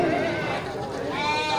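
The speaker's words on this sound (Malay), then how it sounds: "Kambing jantan siap sembelih." A male goat bleats at a busy livestock market, a short strained cry rising over crowd noise and nearby talk.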